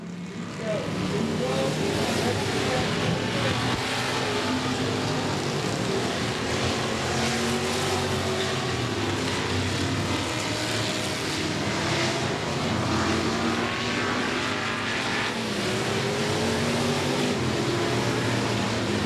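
Race cars roar around the oval at Golden Triangle Raceway Park, a steady loud engine drone filling the whole stretch with a race announcer faintly talking over it.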